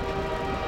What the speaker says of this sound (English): The magical sound of trains.